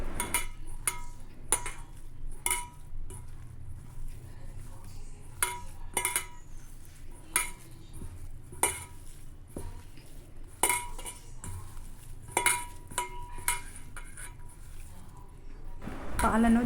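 A spoon or utensil clinks and scrapes against a bowl while bread powder is mixed with boiled and cooled milk into gulab jamun dough, giving irregular close metallic taps under steady talking.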